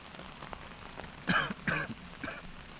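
A man coughs a few times behind the camera at a disc golf tournament, the Swedish Open in Blomross, with short rough bursts standing out over quiet outdoor ambience.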